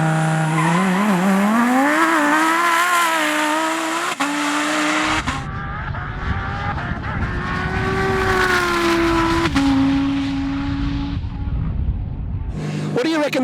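A 6-cylinder or V10 AWD drag car at a drag battle making a pass down the strip, its engine roaring loud and close as it revs and climbs through gear changes, with tire squeal and a sharp drop in pitch at each shift.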